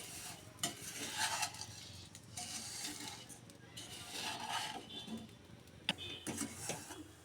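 Vermicelli and nuts are stirred vigorously as they fry in a pan, giving bursts of scraping with a faint sizzle underneath, all fairly quiet and close.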